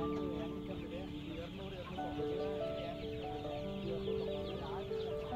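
Chickens, including fighting cocks, cluck and call at Pallavaram's Friday market in India, a busy layer of overlapping clucks and cries under steady crowd chatter and people talking nearby.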